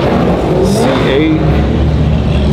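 Sports cars including a Ferrari and McLaren rolling into a car show, a steady loud engine roar with rising revs, under people talking nearby.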